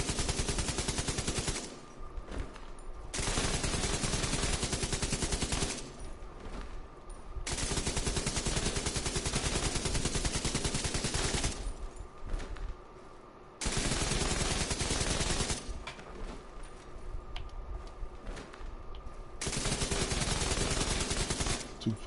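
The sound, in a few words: light machine gun firing in video game The Division 2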